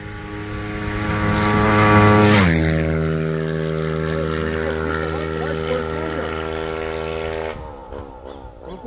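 Honda CG motorcycle with a 4mm-bored engine and 69mm stroke racing past at around 200 km/h, its loud harmonic engine whine rising as it nears and dropping sharply in pitch as it passes, then fading, with voices shouting over it.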